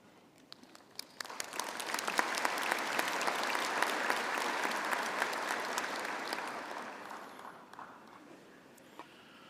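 Applause at a University of Pretoria engineering faculty graduation ceremony begins with a few scattered claps, swells into a broad, steady ovation from a large audience in a hall, then gradually thins and fades to isolated claps.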